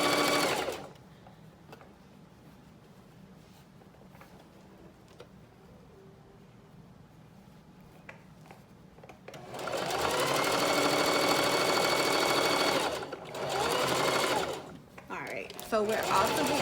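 Sewing machine backstitching fabric, running in a steady loud burst from about 9 to 13 seconds, pausing briefly, then a second short burst, with a quieter stretch of faint handling noises before.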